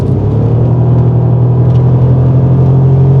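A Bentley Continental GTC convertible under throttle, a loud deep engine and exhaust rumble that holds steady and close, with a low, even drone throughout.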